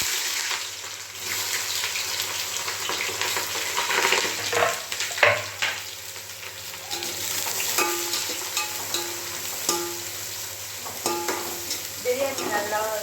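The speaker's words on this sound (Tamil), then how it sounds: "வெங்காயம் நல்லா வதங்கணும்" Onions frying in hot oil for a home-cooked chicken biryani, with a steady sizzle and occasional stirring scrapes in the pan, close and continuous with no talking.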